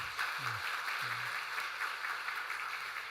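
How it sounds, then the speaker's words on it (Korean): A church congregation at a Sunday service in Samcheok Central Church claps to welcome newly registered members, a fairly soft, steady wash of many hands throughout, with a few faint low vocal sounds near the start. "우리 박수로 환영하도록 하겠습니다"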